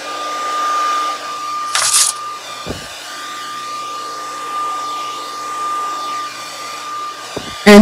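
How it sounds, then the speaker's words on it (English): A steady, loud whirring drone of a hair dryer blowing fluid acrylic paint around in a Dutch pour, continuously, with a few brief clicks and bumps along the way. "Now I will use the blow dryer and move the color around."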